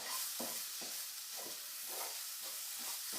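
Garam masala and chana masala powder are stirred in a hot pan for chana masala, with a constant soft sizzle and hiss and regular scraping strokes of a spoon about every half second, quiet and close.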